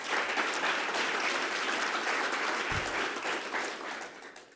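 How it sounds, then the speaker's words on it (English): Applause from the audience at the Amazon Sustainability Summit 2025 for the event organizers, a steady, fairly soft patter of many hands clapping that holds for several seconds and then begins to taper off. "Can we applaud?"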